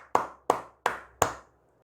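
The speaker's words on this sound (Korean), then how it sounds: "여러분, 대박이기 때문에 박수 한번 치고 가도록 하겠습니다." Four crisp, evenly spaced hand claps ring out close by in a quiet room, each followed by a short decay before silence.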